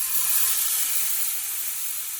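Marinated New York strip steak sears in a very hot pot, a loud, steady hiss of sizzling fat and steam that eases off slightly toward the end, close up with no one talking.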